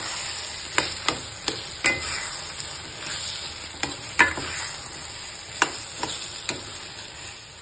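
Roasted chana dal patoli mixture being stirred in a pan, with a spoon scraping and knocking against the metal in irregular clicks over a soft dry sizzle, close by and fairly quiet.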